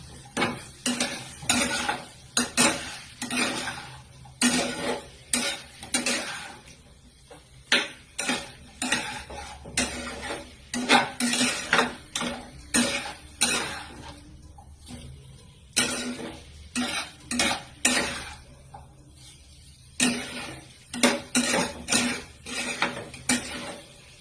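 Metal spoon scraping and clanking in a pan while boiled potatoes with coriander leaves are stirred and fried for a vegetarian aloo dum, irregular bursts of close clatter with brief pauses between strokes.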